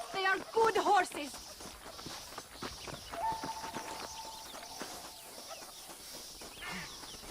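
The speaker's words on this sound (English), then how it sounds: "They are good horses." Horses' hooves clip-clop at a walking pace in Red Dead Redemption, a soft, fairly faint rhythm mixed with voices and light background sounds.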